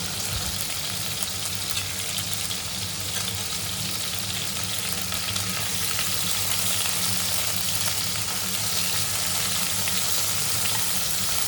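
Chicken pieces fry in hot oil while being stirred, a continuous close sizzle with a soft crackle that stays even and steady throughout.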